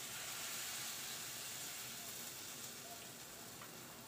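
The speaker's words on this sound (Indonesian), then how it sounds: "Lalu kita goreng nugget." Chicken fillet nuggets fry in a pan with a steady, soft sizzling hiss that holds evenly throughout, fairly faint and with no talking.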